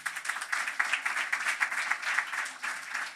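Audience applause for a panel at a food systems and landscape transformation event, a short burst of brisk, fairly close clapping from a modest crowd, steady throughout.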